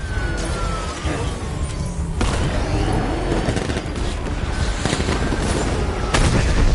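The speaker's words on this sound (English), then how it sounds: "Open fire!" Gunfire in a Batman video game, dense bursts of shots and booms rattling continuously over a loud, busy battle mix, with voices calling out among the shooting.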